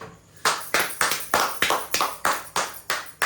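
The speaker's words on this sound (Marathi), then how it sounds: "एकदा टाळ्या वाजवा बरं." People at a lively family gathering clap hands in a steady rhythm of about ten sharp, bright claps, evenly spaced and close, with a quieter lead-in before the first clap.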